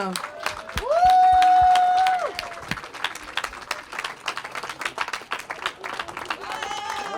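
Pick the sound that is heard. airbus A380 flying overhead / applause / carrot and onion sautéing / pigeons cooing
applause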